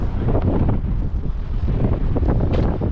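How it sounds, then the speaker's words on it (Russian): Strong wind batters an outdoor microphone during stormy weather in Tyumen near a shopping centre, a loud, continuous roaring rumble with gusty swells. "Тут что-то ветрено, капец."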